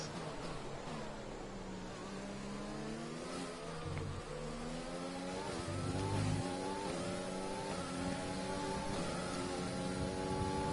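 A Formula 1 race car engine screams in the F1 2020 video game, revving steadily with rising and falling pitch sweeps as it accelerates through gears, continuous and fairly quiet in the mix.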